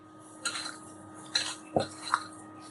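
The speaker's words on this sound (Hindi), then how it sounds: "तमाम चीज़ों को हमें अच्छी तरह मिक्स करना है।" Mashed potato gets mixed with red chilli powder, spices and lemon juice in a bowl, heard as a few sparse, close clinks and scrapes of a spoon against the dish with quiet gaps between them.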